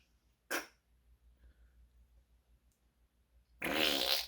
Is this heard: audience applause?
no